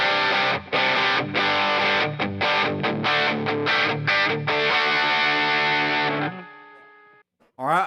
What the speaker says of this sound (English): And here's the same sound with a tube screamer.